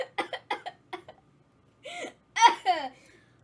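A man gives a quick run of short, close coughs, followed by a few louder, strained hacking bursts that edge toward laughter, with brief gaps between them.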